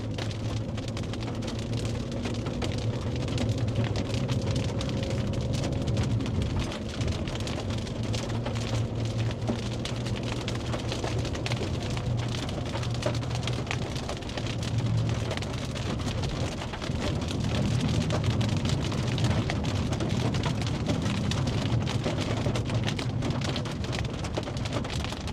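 Steady rain pounds a car during a storm chase drive, a loud continuous hiss of drops with low road and engine rumble beneath, lasting throughout.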